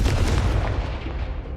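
A Confringo blast spell from Hogwarts Legacy booms in a loud burst that fades out over about a second and a half.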